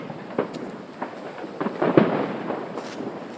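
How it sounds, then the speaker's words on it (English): Fireworks and firecrackers go off in scattered sharp pops and crackling bursts at moderate distance, with a busier cluster midway through. There is faint background noise but no clear talk. "Hey, you're missing the fireworks."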